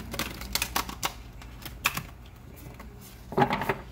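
Crisp riffling and rapid clicking of cards being shuffled, in irregular bursts with a short pause, close by.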